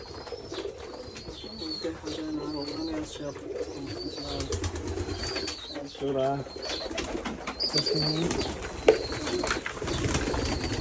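Desi pigeons coo at a pigeon farm, their low, rolling calls repeating steadily beneath ongoing conversational speech, with occasional rustles and faint chirps nearby.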